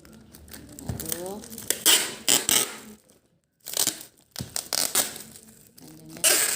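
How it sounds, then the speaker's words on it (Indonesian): Packing tape pulled and pressed onto a parcel at a work desk for online-shop shipping, with bursts of crinkling, tearing and crunching in several rounds broken by a brief pause, close up, while a person talks throughout. "jadi kanan kiri saya lakban seperti ini"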